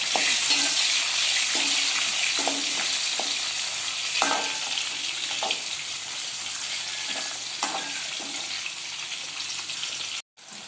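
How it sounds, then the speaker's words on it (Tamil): Food fries in hot oil with a continuous bright sizzle, while a utensil makes occasional scraping and stirring knocks throughout. The clip ends with a brief dropout. "இனி பொரிக்க போகிறேன்"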